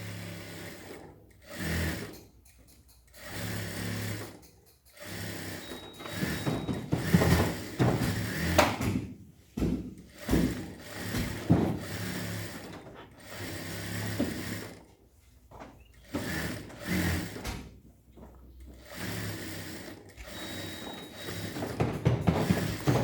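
A sewing machine stitches a bag in a workshop, running in repeated bursts of rapid mechanical clatter separated by short pauses as the fabric is repositioned, close and fairly loud with no speech.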